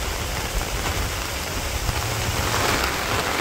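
Heavy rain pours down in a Bangladeshi village, a loud, unbroken hiss of drops striking surfaces close at hand, with no voices.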